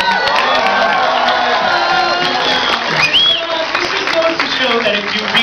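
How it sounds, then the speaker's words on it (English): Audience at a convention panel clapping and cheering, a loud dense roar of applause with whoops and shouted voices mixed throughout, sustained and close. "You could wave, clap for that."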